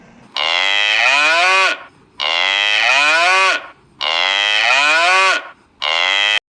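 An animal toy plays a recorded cow moo four times in a row. Each moo is long, loud and close, with brief gaps between them.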